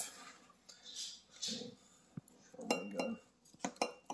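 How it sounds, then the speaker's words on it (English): A fork and knife cut into homemade lasagna with bechamel and mozzarella, giving soft scraping and clinks of cutlery against a dish, close and intermittent. "Let's cut that up here. Let's try that out. We got a fork and a knife."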